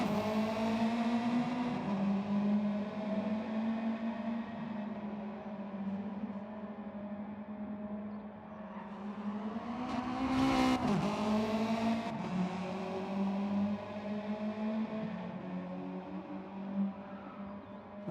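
Race car engines drone through an online Gran Turismo 7 lobby race, a steady layered engine tone that rises and falls in pitch, swelling with a brief louder burst midway, quiet and without voices.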